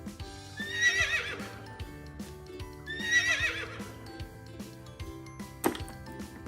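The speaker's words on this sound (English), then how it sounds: "Our next one is a horse." Two loud horse whinnies, each a rising-then-falling neigh, with a short gap between them, over a steady clip-clop of hooves that runs throughout and ends with a sharp knock.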